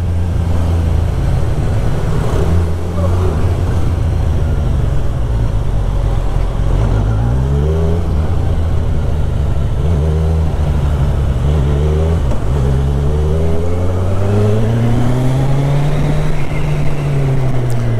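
A car driving on a road toward Riverside Road between Pune and Satara, heard from inside as a steady, close engine drone with shifting revs and continuous road rumble, no talk.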